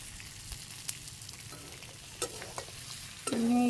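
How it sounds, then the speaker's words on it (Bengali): Meat sizzles and fries in a pan while being stirred, a steady close crackle with occasional scraping stirs; no talking. "আমার মাংস প্রায় কষানো হয়ে গেছে"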